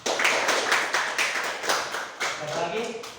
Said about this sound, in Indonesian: Tepuk tangan harus dulu.